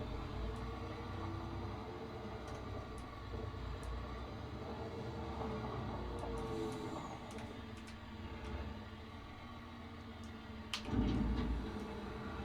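A loaded truck empties its cargo in Farming Simulator 25, a steady mechanical rumble and rattling dump running throughout with a louder low thump near the end.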